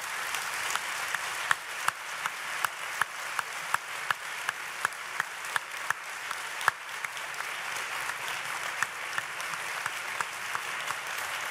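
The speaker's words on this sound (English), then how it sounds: "I would like to invite you to give them a very warm applause" A conference audience applauds roundtable panelists at an African studies event, a long, even wash of many hands clapping heard from a distance, fairly soft, with a few sharper claps popping out regularly.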